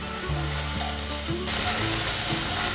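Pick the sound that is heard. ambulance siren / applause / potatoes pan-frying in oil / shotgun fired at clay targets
potatoes pan-frying in oil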